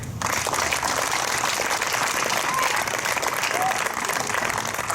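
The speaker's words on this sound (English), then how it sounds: "Please join me in a warm applause for Maria." Audience applause at a ribbon cutting ceremony for a school science building, a warm, steady crowd clapping for about five seconds with faint voices and a whistle-like tone mixed in.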